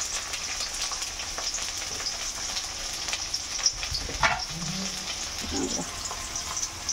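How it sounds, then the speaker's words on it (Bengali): Onion and chopped tomato fry in oil while being stirred, a steady close sizzle with occasional spatula scrapes and clinks against the pan, and a brief faint vocal sound near the end. "তেলের মধ্যে পেঁয়াজটা দিয়ে একটু নেড়ে চেড়ে নিয়ে তারপরে দিয়ে দেওয়া হলো কেটে রাখা টমেটো।"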